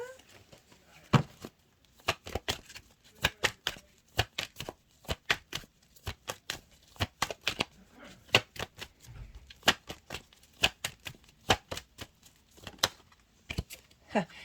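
Tarot cards being shuffled and handled at close range: a long run of crisp, irregular snaps and riffles, soft and intimate, with brief pauses between bursts.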